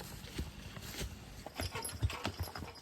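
Hooves of a team of draft horses clop at an unhurried walking pace while skidding logs, soft and somewhat distant, with quiet outdoor ambience between steps.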